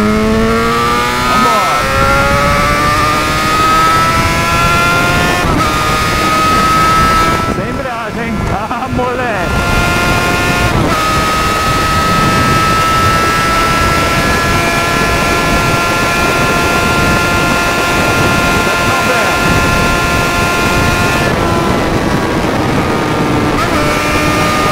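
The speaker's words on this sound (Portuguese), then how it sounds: "vamos acelerar um pouquinho, 6 mil giros, terceira marcha." Yamaha XJ6 motorcycle with microphones at the exhaust, revving hard in third gear toward 6000 rpm, with loud rising engine tones, a brief dip near eight seconds and wind rush, alone without talk.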